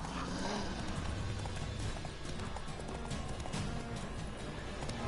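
Hooves of Roach, the horse in The Witcher 3, pound in a steady gallop under a continuous wash of game ambience, close and fairly even in loudness, with no talking.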